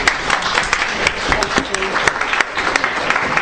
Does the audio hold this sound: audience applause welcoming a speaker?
yes